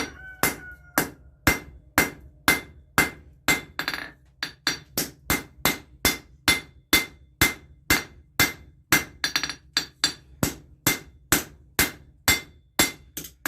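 Steady, rhythmic hammer blows ring out as a blade is shaped on metal at a forge, roughly two strikes per second, with bright metallic clinks and no talking.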